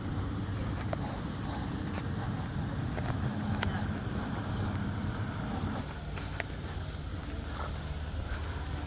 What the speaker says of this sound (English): It's the glass bottom boat, baby.